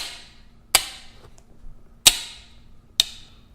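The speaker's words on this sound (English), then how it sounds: "I put my finger on the hammer because I don't want it to slam on the frame." An AR-15 lower receiver's hammer snapping forward three separate times, sharp metallic clicks spaced apart against a quiet background with faint handling noise between them.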